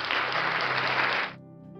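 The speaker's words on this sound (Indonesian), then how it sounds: "Haleluya, berikan tepuk tangan Tuhan." A church congregation claps together in a dense, even burst of applause that holds for just over a second and then cuts off abruptly, leaving a quiet room tone.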